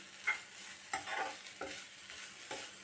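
Soft scraping and shuffling strokes of a spatula stirring grated coconut in a hot frying pan, repeating every half second or so over a faint steady hiss.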